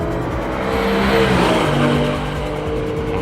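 A 2020 Toyota Supra and a Mustang GT drag racing side by side, engines roaring loudly and steadily at high revs, the pitch climbing and shifting as they accelerate hard, close and continuous without speech.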